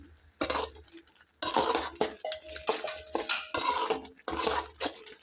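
A metal spoon stirs chili powder into egg masala curry in a pan, with repeated scraping and clinking against the pan in uneven bursts, close and fairly loud with a soft sizzle beneath.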